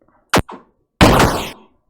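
Explosion sound effects from a Godot 3 space sidescroller game: a short sharp burst and a quick smaller pop, then after a brief gap a longer, louder crackling blast that fades out over about half a second.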